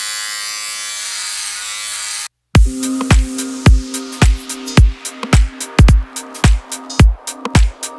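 A Philips OneBlade electric trimmer fitted with a new blade hums steadily for a couple of seconds, stops, and then gives a run of short rhythmic buzzing bursts against a faint low hum.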